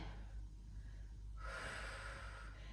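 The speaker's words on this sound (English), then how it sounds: "Breathe." Close, audible breathing comes from a person holding a wall Pilates leg stretch, with one deeper inhale or exhale partway through over a quiet, steady background.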